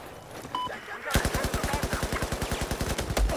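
Rapid automatic gunfire hip-fired in the video game Battlefield 4, a dense run of evenly spaced, loud shots lasting about two seconds after a quieter ambient start.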